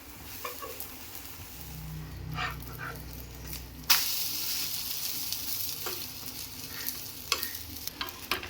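An omelette cooking on a hot tawa: after a quieter stretch with a few soft taps, a sudden loud crackle marks the batter hitting the metal, settling into a steady sizzle with occasional scrapes and no voices.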